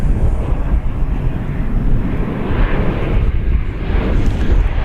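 An American Airlines Boeing 737-800 arriving from Santa Ana roars loudly and close as it passes at DFW Airport. The broad, rumbling jet noise swells and holds steady throughout.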